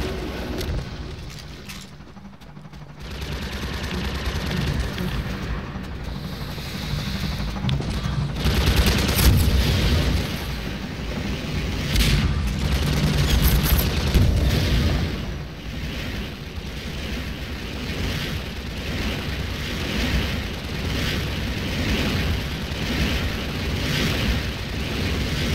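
Gunfire and explosions in the video game Half-Life 2: a loud, continuous barrage of booms, blasts and rattling shots, rising and falling in dense waves with no clear talk.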